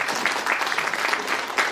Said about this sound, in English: I will say they applauded you and not Diane.